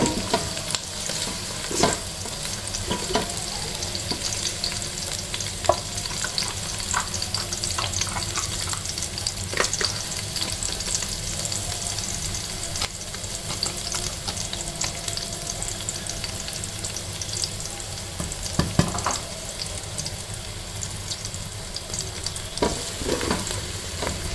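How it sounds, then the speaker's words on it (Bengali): Chopped onion sizzles in oil inside a rice cooker for pulao, a steady crackling fry with occasional scraping stirs and utensil clicks, close and continuous with no voices. "এবার এর মধ্যে আমি দিয়ে দিচ্ছি পেঁয়াজ কুচি একটা বড় সাইজের পেঁয়াজ নিয়ে কুচিয়ে নিয়েছি"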